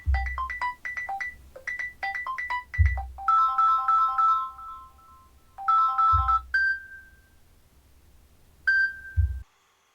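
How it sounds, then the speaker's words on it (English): A bright electronic phone ringtone plays a repeating melodic pattern of quick tones with short pauses, loud and clear with no talking. "To sample a ringtone, just tap on the name and the ringtone will play."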